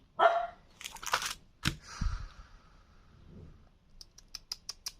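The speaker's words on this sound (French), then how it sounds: "Et bien elle aboie l'après-midi." A dog barks a few sharp times indoors early on, followed by light tapping and clicking sounds near the end.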